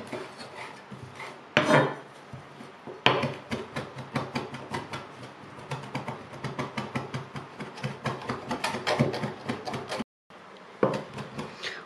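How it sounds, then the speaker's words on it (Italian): Fresh parsley being finely chopped with a knife on a wooden board: fast, steady rhythmic thuds close up, carrying on for several seconds with a couple of brief pauses. "Adesso tritiamo finemente."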